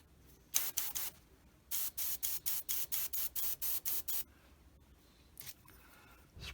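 Spraying silver paint with an airbrush onto a Tamiya 1/48 F4F model: short hissing bursts, then a run of about ten rhythmic pulsed sprays in quick succession and one more brief burst, close and fairly quiet.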